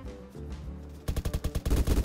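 Rapid snub-nose revolver shots from the Roblox game Apocalypse Rising 2 crack in a quick, loud burst of about a dozen reports, following a stretch of game background sound.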